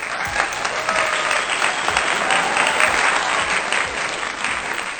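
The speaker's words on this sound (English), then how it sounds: "let me get a hand clap for Home Team." Applause sound effect on a movie review podcast, a thick wash of crowd clapping sustained at steady volume for several seconds, loud and close.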